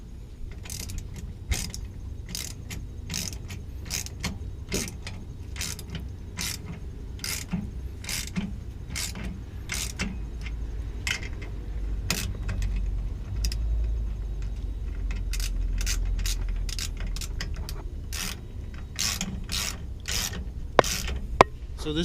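Rapid metallic ratchet clicks repeat in quick bursts, close up, tightening sway bar bolts under a Toyota Tundra, with short pauses between runs over a low background hum.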